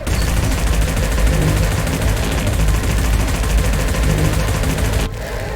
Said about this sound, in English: my personal favourite, 2 massive shoulder mounted cannons